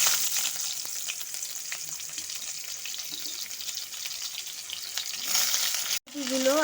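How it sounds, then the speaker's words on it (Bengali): Cauliflower florets fry in white oil in a kadai, giving a steady close sizzle with light stirring scrapes throughout, swelling briefly before a short break near the end. "আঁচটাকে মিডিয়ামে রেখে আমি একটু ভাজা ভাজা করে নেব"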